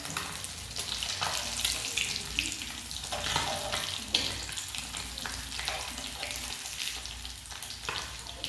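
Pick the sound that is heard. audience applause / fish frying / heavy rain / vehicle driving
fish frying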